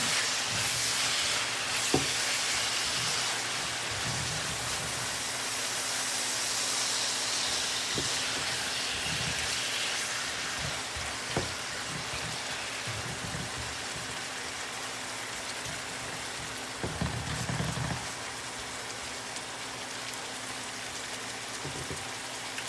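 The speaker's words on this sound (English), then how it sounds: "I'm just going to saute this down a little." Saltfish sautés in a pan for ackee and saltfish, giving a steady, close frying sizzle and hiss that runs the whole time, with a few soft knocks and clinks of a utensil against the pan.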